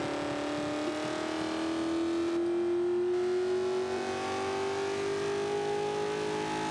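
Loud engine of a B Class 1995 Mustang fitted with an upgraded camshaft, racing in Forza 5, climbs steadily in pitch under sustained acceleration, a continuous buzzing roar with no voices.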